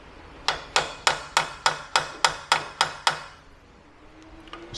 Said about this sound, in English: take a small hammer and tap this slug into the knuckle